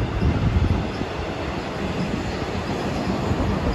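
A train runs steadily past a walking trail beside a creek, a continuous loud rumble of wheels on rails with faint squeal and clatter, no talking over it.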